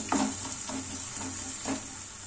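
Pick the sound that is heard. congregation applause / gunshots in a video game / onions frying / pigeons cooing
onions frying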